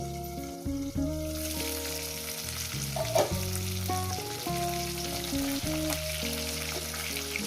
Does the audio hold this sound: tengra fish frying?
yes